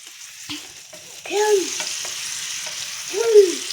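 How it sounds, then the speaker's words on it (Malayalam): Cut banana pieces fry in ghee for a sweet evening snack as a spoon gently stirs them, giving a low sizzle broken by a few distinct scraping strokes against the pan, close and fairly quiet. "പയ്യെ വേണം ഇളക്കാൻ."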